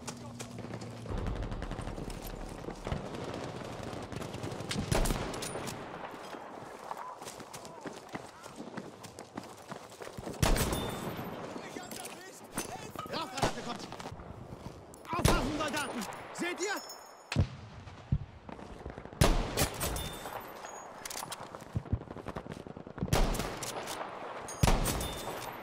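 Gunfire in a Battlefield V match, bursts of rapid shots and single cracks scattered across the scene, mixed with running footsteps and game noise while a player talks over it.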